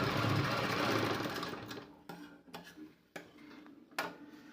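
A sewing machine stitching a blouse runs in a steady loud whir at first. It then slows into a few separate clicks and short bursts of stitching.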